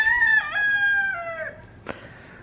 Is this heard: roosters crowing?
yes